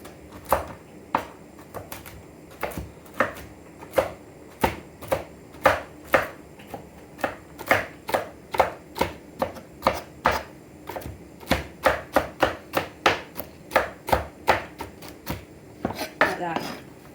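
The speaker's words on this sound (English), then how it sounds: "I'm just going to chop them up so they're a bit smaller" A knife chops walnuts on a board in a steady run of sharp, close taps, about two per second, continuing for the whole stretch with no voices over it.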